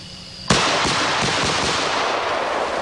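Rapid automatic fire from a jungle gun erupts after a brief quiet start, a dense, loud, sustained burst of shots that rattles on without pause to the end, with no voices.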